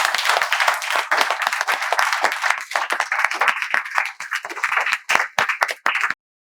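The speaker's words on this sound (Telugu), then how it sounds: "సో మిమ్మల్ని మేము ఏఎస్ స్పోకెన్ ఇంగ్లీష్ కి చప్పట్లతో స్వాగతం తెలియజేస్తున్నాం." An audience claps together in welcome, a dense, steady burst of applause that carries on for about six seconds before stopping abruptly, with no voices heard over it.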